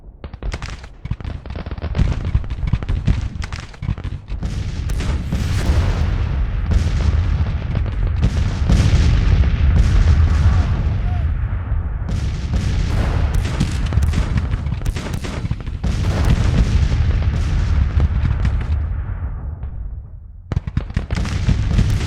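Civil War battle in the strategy game Grand Tactician: Civil War, with dense, continuous musket volleys, crackling gunfire and booming artillery rumbling together loudly for the whole stretch, easing briefly near the end.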